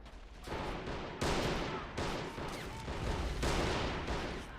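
Rapid volleys of World War I rifle and artillery fire crackle and boom in a battle from the video game All Quiet on the Western Front, dense overlapping shots with loud bursts roughly every second, no talk.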